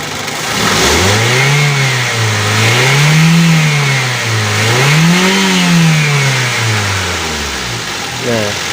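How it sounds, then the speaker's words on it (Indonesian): Used car engine revved hard several times, its pitch rising and falling in repeated swells with no knocking, close and loud and steady throughout. "Kemudian teman-teman bisa menarik gas ya, digas agak kenceng."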